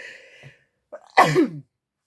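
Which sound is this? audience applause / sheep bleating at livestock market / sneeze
sneeze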